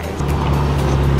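A car arrives with a close, steady low engine rumble that rises slightly and then holds for a brief moment, with no voices.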